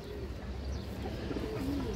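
A black pied female pigeon of an old pure line coos softly in a loft, low repeated murmurs over a steady background hum.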